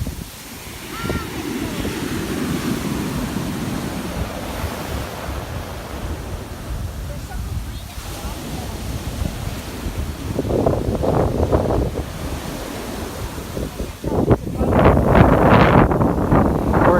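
Ocean surf at a black sand beach in Santa Cruz de la Palma in the Canary Islands, a steady wash of breaking waves with wind noise on the microphone and people talking now and then.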